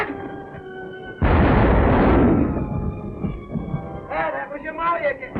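A loud, booming gun blast rings out in a 1936 film scene aboard a boat, followed by a rumbling decay and a voice calling out over the fading echo.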